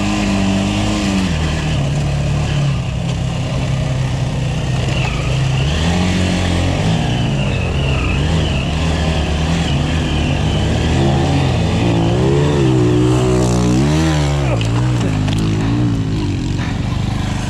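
Minsk X250 enduro motorcycle racing past during an enduro event, its engine revving and rising in pitch as it approaches, loud and close, then easing off, with a faint voice underneath.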